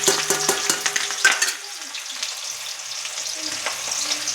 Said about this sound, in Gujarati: તેલ આવી ગયું છે. હવે આપણે એમાં ડુંગળી નાખીશું.